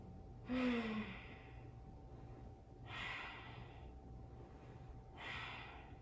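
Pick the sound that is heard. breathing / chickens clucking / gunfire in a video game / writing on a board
breathing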